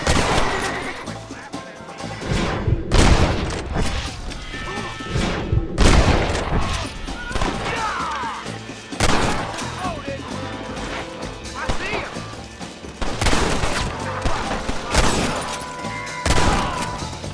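Gunfire rings out in the Red Dead Redemption video game, with loud, sharp shots and crashing blasts scattered irregularly at close range, mixed with voices and game sound.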